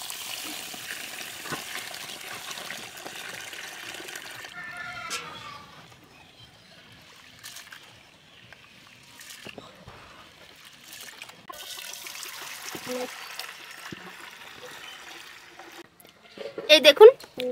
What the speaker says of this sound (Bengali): এই ডালটাকে এখন ভালো করে ধুয়ে নিতে হবে।